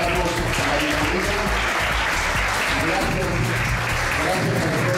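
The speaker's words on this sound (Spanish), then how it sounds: "vamos a dar un fuerte aplauso" Audience at a school holiday posada and academic awards ceremony applauds loudly and steadily, a dense wash of clapping filling the room throughout, with voices mixed in beneath it.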